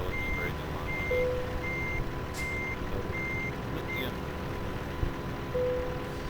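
A truck reversing while parking a trailer in American Truck Simulator, its backup alarm repeating steady evenly spaced beeps over a low engine rumble, with a brief hiss partway through.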